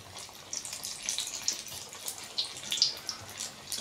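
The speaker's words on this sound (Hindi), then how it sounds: "फाइनली तेल गर्म हो गया, और मैं इसमें डाल रही हूँ ये बेसन का घोल" Gram flour batter goes into hot oil for pakoras and starts sizzling and crackling, a soft continuous hiss with scattered pops, fairly quiet, with no talk.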